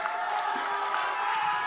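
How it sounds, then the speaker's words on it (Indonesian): Crowd noise rises from the audience at a public debate for regency head and deputy candidates in Tanggamus, as applause and cheering greet candidate pair 1, a steady dense wash without distinct claps standing out. "tepuk tangan untuk paslon 1"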